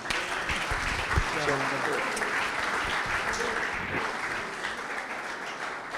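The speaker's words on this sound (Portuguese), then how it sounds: "Uma salva de palmas para o nosso Senhor Jesus." Congregation applauding in a church service, a dense, steady wash of many hands clapping for the full stretch with voices mixed in beneath.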